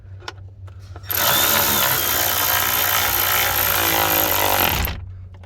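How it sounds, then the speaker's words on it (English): A power tool whirs loudly for about four seconds while snugging a bolt on the fuel filter housing of a 2017-2021 Ford F250 6.7L diesel, then winds down, with faint clicks before and after. "Now I'm just gonna be snugging in this bolt until I snug the opposite side."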